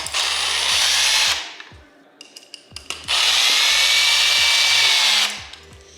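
A power drill drives screws out of a ceiling light fixture during a DIY relocation, two long loud whining bursts separated by a pause with small clicks and taps, the motor running steady and close.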